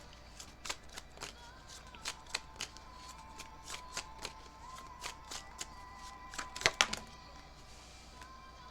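Tarot cards being shuffled, a steady series of soft crisp riffles and taps at close range, quiet with a faint background hum.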